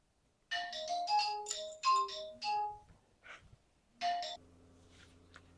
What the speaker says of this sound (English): And there goes the phone, but the phone will just have to wait till we finish this.